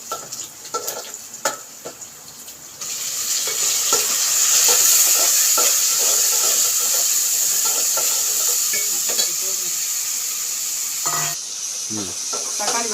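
Chopped tomatoes sautéing in oil in a pan for sambar, a steady loud sizzle and hiss with a spoon scraping and stirring through it, preceded by a few clinks before the frying swells.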